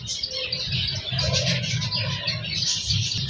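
Caged birds call at a bird shop in Ahmad Pur East, with overlapping chirps, tweets and soft dove-like coos over a low background hum.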